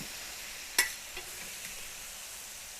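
Bourbon poured onto chicken on a hot griddle: one sharp splash-hiss, then a quiet steady sizzle with a few small pops and no voices.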